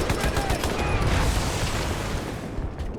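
Human-side guns firing old-style lead bullets in Halo 2, heard as a heavy, continuous barrage of shots and booming impacts, loud and dense, gradually easing toward the end.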